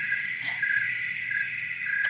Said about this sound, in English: I hear some maybe crickets